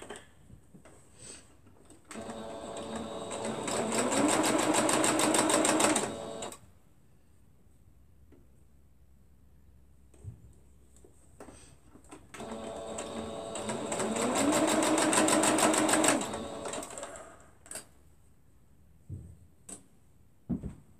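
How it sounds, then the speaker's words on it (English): A sewing machine stitches down a quilt block in two steady runs of several seconds each, separated by quiet pauses with a few faint handling clicks. "I'm going to take this one apart and go sew it down."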